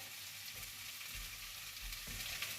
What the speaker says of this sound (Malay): Kita tuangkan santan.